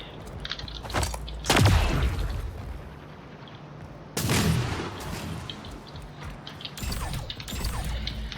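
Sniper rifle and SMG fire in the shooter Splitgate, a few loud booming shots and short bursts at spaced intervals, with mechanical clatter between them.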